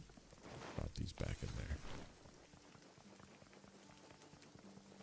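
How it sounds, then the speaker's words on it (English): Rain falls in the Runescape: Dragonwilds video game, a steady hiss over the whole stretch, with louder clattering bursts near the start while someone speaks briefly. "I feel like it's always raining in this game when I come back to base."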